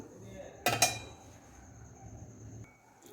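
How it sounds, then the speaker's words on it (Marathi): Sugar is stirred into milk in a pot: a quick burst of metal spoon clinks against the pot, followed by quiet stillness with faint kitchen background. "आपण साखर पण थोडं मिक्स करून घेऊ"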